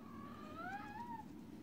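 A cat gives a single drawn-out, rising and falling meow, faint and fairly close, over a low steady background hum.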